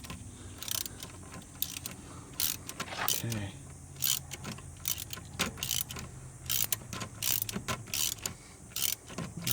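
A 5/8 socket wrench snugging bolts on an OMC/Volvo Penta stern drive during a boat transom rebuild: quick ratcheting clicks and metallic clinks in short irregular bursts, close and quiet, with a brief spoken word.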